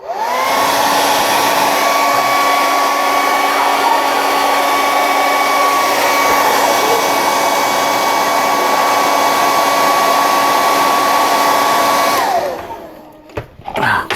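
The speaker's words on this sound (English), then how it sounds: "now we're going to apply some more heat to this" A heat tool blows steadily on a 1/72 scale Sinanju model kit piece held by five clamps, a loud continuous whine with a steady tone that runs for about twelve seconds before spinning down and cutting off.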